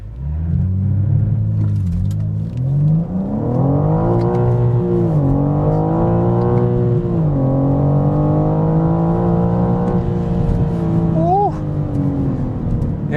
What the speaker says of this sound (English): I did just use my foot brake gas method to get it going